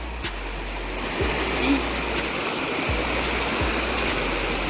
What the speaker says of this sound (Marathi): हे जे वाहतं पाणी आहे